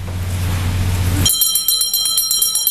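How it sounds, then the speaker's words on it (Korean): A bright bell rings repeatedly in quick, lively strikes at a squid fish auction market, loud and close, taking over abruptly after a low hum. "위판장에서 경쾌한 종소리가 들려옵니다"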